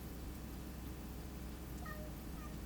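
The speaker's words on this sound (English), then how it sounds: "Y'all hear that meowing?" A faint cat meow sounds briefly in the distance behind a steady low background hum, with no one talking.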